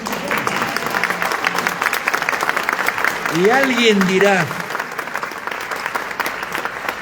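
An audience at a public free-book giveaway event claps steadily throughout, a dense sustained applause with a voice speaking over it.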